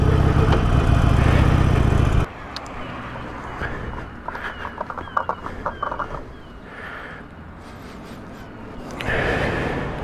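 A motorcycle engine running roughly, loud and low for the first couple of seconds, then dropping to a quieter, uneven idle with irregular knocks and surges.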